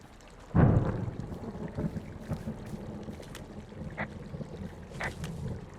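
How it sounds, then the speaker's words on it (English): Distant thunder in the video game Firewatch, a sudden low rumble that swells and rolls off slowly, followed by faint wind and scattered small noises. "Hey, I heard some thunder."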